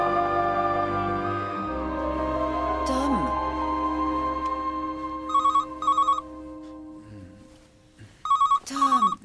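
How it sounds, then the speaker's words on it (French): A telephone rings in a drama scene, with two bursts of electronic double trills midway and another pair near the end, loud over a background of music and room sound. "Téléphone."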